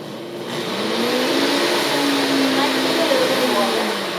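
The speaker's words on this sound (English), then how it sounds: "no matter how fancy your blender is, it needs some help" A blender whirs through cilantro green chutney, a loud continuous motor drone that starts abruptly and holds steady for several seconds, with a pitch that drifts slightly.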